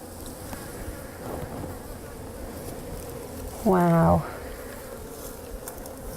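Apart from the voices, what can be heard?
honey bees buzzing on hive frame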